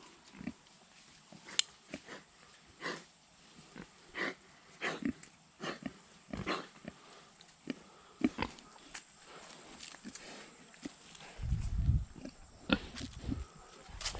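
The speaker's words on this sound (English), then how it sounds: "try not to let the pigs harass us too much" Pigs on a farm grunt and snort in short irregular bursts, some close and loud, with a heavier low rumble near the end and occasional human voices.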